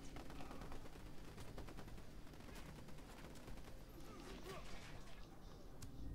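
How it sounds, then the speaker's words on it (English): Rapid gunfire in an Xbox One shooter game, continuous clattering bursts of shots with sharp cracks throughout, moderately distant and steady, with faint voices underneath. "Somewhere they were shooting me through the building."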